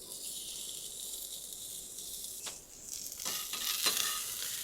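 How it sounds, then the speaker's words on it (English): Onions fry in a little avocado oil on a burger griddle, giving a steady close sizzle with a few louder crackling bursts and stirring scrapes near the end. "I'm just going to give some onions a little fry here."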